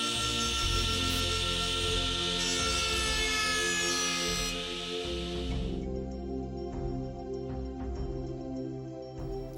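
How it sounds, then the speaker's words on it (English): Copemaster saw blade being worked side to side through a wooden baseboard, a steady bright whining buzz that runs for several seconds then cuts out, leaving a quieter low hum with faint clicks. "Unlock the front carriage lock and move the blade side to side to finish the straight cut on your baseboard."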